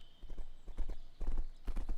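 Horse hooves gallop in a video game, a quick rhythmic clip-clop in clustered beats, fairly close and moderately loud, with a faint steady tone in the background.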